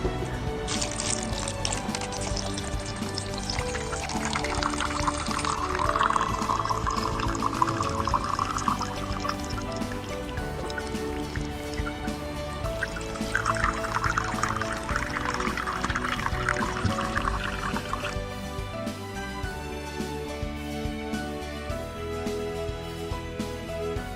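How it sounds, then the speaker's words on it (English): Dirty water pours steadily into a filter in two long streams, a bright splashing gush with a pause between, over a low background hum. "So now I'm going to pour this dirty water into the filter."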